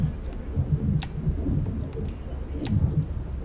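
Distant thunder from an approaching storm rolls through a Sea of Thieves game scene, a low continuous rumble with a few sharp crackles.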